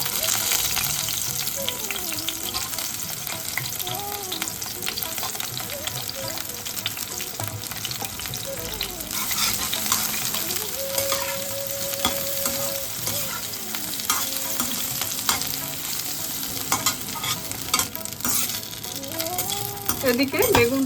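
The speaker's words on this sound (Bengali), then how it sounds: "ওই তেলেই আমরা বেগুনটাকে ভেজে নেব।" Brinjal sizzles and fries in mustard oil in a pan, a steady, close crackling hiss that continues throughout with occasional stirring and faint utensil clinks.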